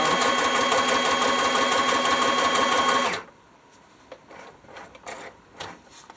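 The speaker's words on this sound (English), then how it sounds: "I want to sew all the way around." A sewing machine stitching around the edge of a book-page pocket, a loud, rapid, even mechanical whir for about three seconds before stopping, followed by quieter rustles and handling clicks.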